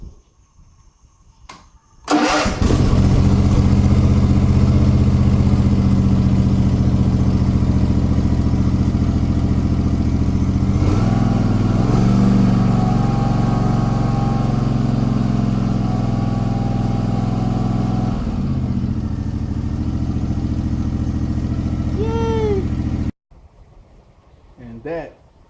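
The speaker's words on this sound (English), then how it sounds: "And that is how you fix a lawn motor." A Gravely lawn mower engine, freshly repaired at the choke, starts and runs loud and steady for about twenty seconds, holding a constant idle before cutting off abruptly.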